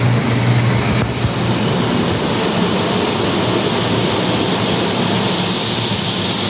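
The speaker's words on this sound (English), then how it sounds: "We got a pan washer here." A pan washer cleaning maple syrup evaporator pans at a Vermont sugarhouse gives a loud, steady mechanical roar with broad spray-like hiss, constant and unbroken throughout.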